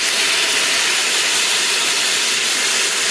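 A loud, steady hiss of steam billows up from a hot pot of Italian minestrone as diced tomatoes and broth are added, a broad rushing sound that stays constant and close without any talking.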